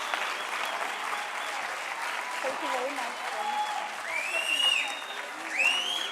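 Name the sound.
audience applause at festival opening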